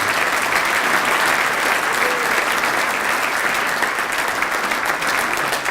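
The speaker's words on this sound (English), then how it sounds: "So please give them one last round of applause" A banquet-hall crowd at an anniversary Hall of Fame induction delivers a steady, dense round of applause, a loud continuous wash of many hands clapping at once that holds evenly for several seconds with no speech over it.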